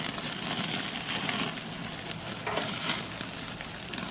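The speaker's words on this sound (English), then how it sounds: "pan on the fire and I sear it in the pan" Meat searing in a pan over a fire, a steady loud sizzle and crackle of fat spitting continuously at close range, with occasional pops.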